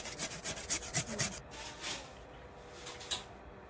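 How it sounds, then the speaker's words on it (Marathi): Potato rubbed finely against a kitchen grater in a quick, even rasping rhythm, close and clear, then slowing to a few softer strokes. "आपण बटाटा किसून घेऊयात बारीक किस करून घेऊयात"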